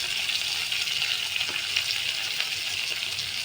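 Ground spices such as turmeric and cumin frying and being stirred in a pan for chana dal, a continuous bright hissing sizzle with faint stirring scrapes.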